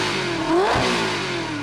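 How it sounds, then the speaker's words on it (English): Ferrari 360 Modena V8 fitted with an aftermarket Capristo exhaust, revving in a single short, loud, rising blip that falls back to a steady idle, close and without talk. "Take a listen to this 360 revving."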